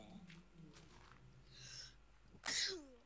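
A single sharp sneeze bursts out near the end after a quiet, faint stretch of low background hum, close and brief.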